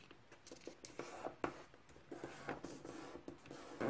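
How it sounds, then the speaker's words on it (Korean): Colored paper is folded by hand for an origami envelope, with soft crinkles, taps and creasing scrapes coming up close in an irregular rhythm over a quiet background. "여기 꼭지점이 중심 교점에 가게 접어주세요."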